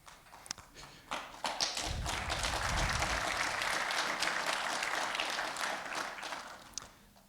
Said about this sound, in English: If you applaud less, I can speak longer.